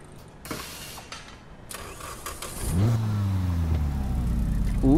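A tuned car in the Need for Speed Heat video game cranks and fires up, then its engine revs with rising and falling pitch sweeps, loud and close, following a few mechanical clicks and clunks.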